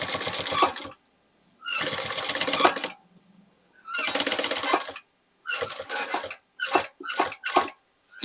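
A sewing machine stitches a strap for a bag made from old jeans, running in several loud bursts of rapid stitching separated by silent pauses, with short quick stitches toward the end.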